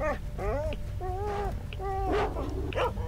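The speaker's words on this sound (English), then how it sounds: "Dogs?" Dogs in the video game S.T.A.L.K.E.R.: Shadow of Chernobyl yelp and whine repeatedly in rising, wavering cries over a steady low rumbling ambience, one call after another across the span.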